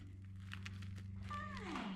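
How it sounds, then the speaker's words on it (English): A cat meows with rising, drawn-out cries near the end, over a steady low hum and faint background noise. "So I hear Mama meowing"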